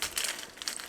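Knife cutting into an overripe, rotten whole pineapple, a brief soft crunching and crinkling of the fruit's skin that ends in a louder sharp crunch, heard close up with no talk.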